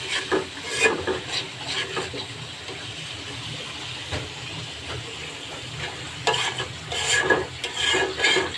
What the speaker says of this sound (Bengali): পানি দিয়ে মশলাটা আর একটু নেড়ে চেড়ে নিই।